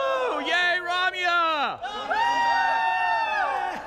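A small cheering section whoops and cheers excitedly before a tandem skydive in Tennessee, bright voices calling out loud and close in overlapping bursts.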